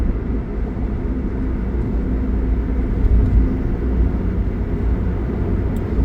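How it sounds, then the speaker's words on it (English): A truck passing nearby, heard as a steady, loud low rumble of engine and road noise that holds for several seconds without a clear peak, with no voices. "I really thought that truck was going to jump over."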